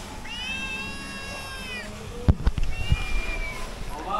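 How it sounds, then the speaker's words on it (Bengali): Two pet cats meow repeatedly indoors, drawn-out tonal cries up close, followed by a few soft knocks and shuffling sounds. "তারা দুটোকে দেখাচ্ছি, ম্যাও ম্যাও ম্যাও করেই যাচ্ছে"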